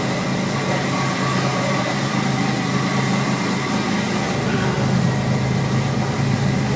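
Engine of a 1949 Plymouth fitted with a SHO engine idles at about 1,000 rpm, a steady, close, continuous droning rumble with no talk over it.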